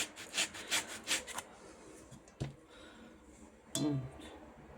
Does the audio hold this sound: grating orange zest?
yes